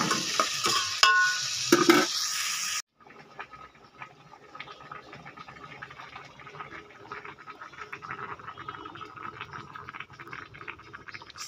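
Ivy gourd and onions frying in a pan, a loud bright sizzle with stirring that cuts off abruptly after about three seconds, leaving a faint, gentle crackle for the rest of the clip.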